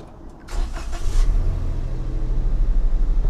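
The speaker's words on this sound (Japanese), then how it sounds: "ちょっとエンジンかけてみましょうか。" A used Suzuki Alto Works (HA36S) manual car's engine cranks briefly and catches, then settles into a steady, low idling rumble close by.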